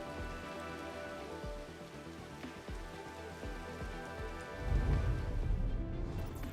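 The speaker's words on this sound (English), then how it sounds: "it's still playing the stupid rain sound effect from, like, the back room here" Steady patter of rain on a surface from a Neural Cloud game back room, a continuous hiss under soft game music with faint low thumps, swelling into a heavier rumble near the end.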